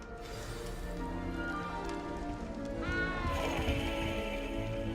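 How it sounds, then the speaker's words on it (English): A frightened cat meows in a Hogwarts video game, a few plaintive mewing calls rising over a steady background bed of game ambience, with one clearer meow near the end. "You don't need to be frightened, little cat."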